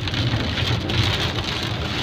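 Steady rain drums on a car's front windshield during a thunderstorm, a dense, continuous patter close by with a low rumbling undertone, no voices.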